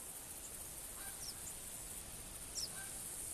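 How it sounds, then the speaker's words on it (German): Canada geese honking in the hunting game theHunter, a few faint, scattered calls over a quiet, hissy ambient bed, with one slightly louder honk near the end. "Und ich höre schon wieder andere Gänse kommen."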